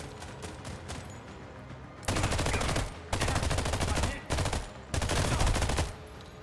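Bursts of rapid SMG gunfire in the sci-fi video game The Expanse: Osiris Reborn, four loud sustained volleys of about a second each, separated by short pauses with quieter background sound.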